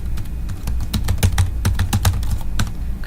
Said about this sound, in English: you can type that in